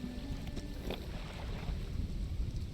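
Wind blows across open water in the fishing game Dredge, a low steady rumbling gust with the faint creak of a boat, continuous and moderately loud with no speech.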